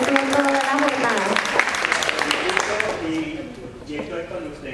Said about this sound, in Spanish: Un aplauso para él, que estuvo toda la jornada.